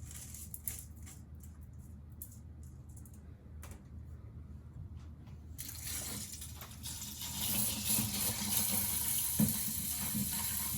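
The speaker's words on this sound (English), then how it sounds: "this is already, I want to say, like the 3rd time I'm adding water" Tap water running into a bowl of rice for a third rinse before making onigiri, a steady close gush that grows louder and fuller partway through, with no talking.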